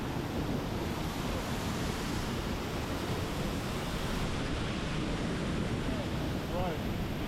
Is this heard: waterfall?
yes